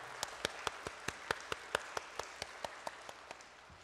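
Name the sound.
applause for the church worship team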